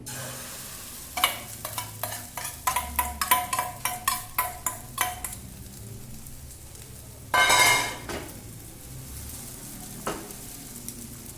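An omelette mixture of oats sizzles in hot oil over low heat while a spoon scrapes and taps the pan in quick rhythmic strokes, then a louder burst of sizzling.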